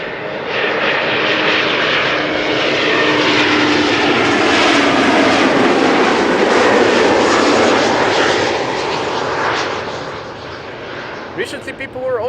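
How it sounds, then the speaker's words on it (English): A German Airways Embraer 190 jet arrives from Aberdeen at Schiphol, its loud engine roar swelling to a peak overhead and then fading away, with a voice talking over it. "Another German Airways Embraer 190 up next,"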